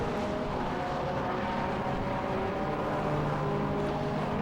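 Renault Clio race cars battling on the Silverstone International circuit, a continuous engine drone heard from a distance as the cars lap, steady and unbroken with no talk over it.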